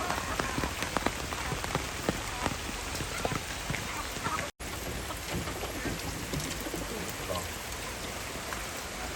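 Steady, heavy rain pattering on surfaces, a dense continuous hiss with scattered drops, interrupted by one momentary dropout midway.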